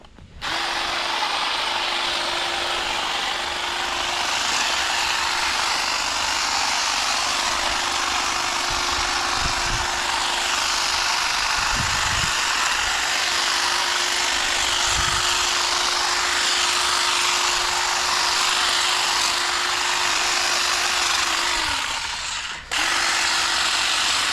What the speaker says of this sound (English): So I'm going to use the hedge trimmer on these and see how it works.